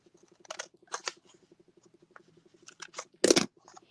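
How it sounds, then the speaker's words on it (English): Scissors snipping paper while making a hand-painted greeting card, several short crisp cuts spaced irregularly, the last one louder and closer, with quiet background hum and no talking. "So here I'm going to use my scissors and cut a little bit"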